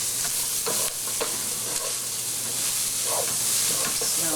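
Spoon scraping and stirring through a pot of bison chili as ground coriander is mixed in, with a steady sizzle and hiss underneath and soft intermittent scrapes.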